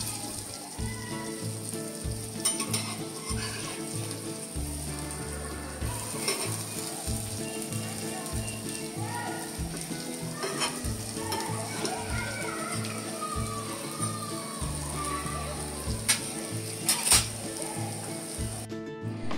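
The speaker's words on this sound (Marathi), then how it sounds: "खरपूस असे भाजून घेऊया आपण दोघं बाजूनी हे कटलेट" Fasting cutlets shallow-frying in a pan until crisp on both sides, a continuous close sizzle with scraping and turning noises, while children's voices and talk murmur faintly in the background.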